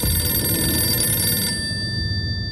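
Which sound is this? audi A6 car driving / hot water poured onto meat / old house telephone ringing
old house telephone ringing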